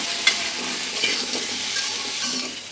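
Vegetables frying in a pan with salt and turmeric for khichuri, a steady broadband sizzle with a few faint scraping stirs, sustained and close throughout.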